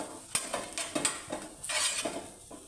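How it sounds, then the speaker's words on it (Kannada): Cooked gargi being lifted from a pan onto a plate in a home kitchen, with soft scraping, light clinks of utensil on metal and faint residual sizzle, close and quiet with no talking. "ಈಗ ತಟ್ಟೆಯಲ್ಲಿ ತೆಗಿತಾ ಇದ್ದೀನಿ"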